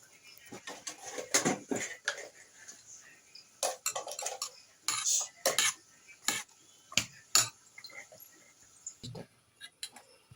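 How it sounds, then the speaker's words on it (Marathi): A spoon clinks and scrapes against a bowl as a sabudana vada mixture is stirred, making uneven, fairly quiet taps and rattles at close range. "चांगलं मिक्स करून घ्यायचं याला."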